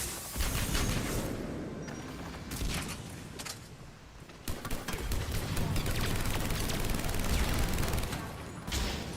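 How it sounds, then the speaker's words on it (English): The Typhoon gun fires in Mass Effect 3 multiplayer, sounding as loud, rapid bursts of automatic fire with brief pauses between them, set against a busy mix of game combat noise. "Keep firing with the Typhoon where possible."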